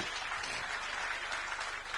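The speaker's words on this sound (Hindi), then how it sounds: "चाहूंगा एक बार जोरदार तालियां हमारे पैनलिस्ट के लिए" Sustained applause from a seated audience at a district public dialogue panel with political leaders in Raipur, a dense even wash of many hands clapping steadily throughout with no talk on top.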